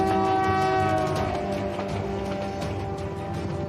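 A long freight train rolls past on a Rocky Mountain railroad as its horn sounds a loud sustained chord over the rumble and clatter of the wagons, with no talking.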